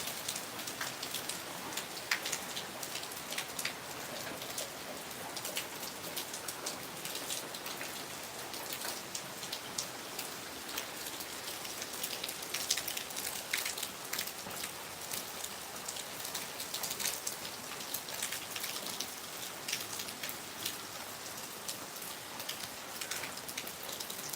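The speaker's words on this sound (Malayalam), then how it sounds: "അതിൻ്റെ കൂടെ നല്ല മഴയും പെയ്യുകയാണ്" Heavy summer rain pours under dark clouds, a dense, unbroken hiss of drops striking surfaces. It holds steady from start to finish with no thunder or voices.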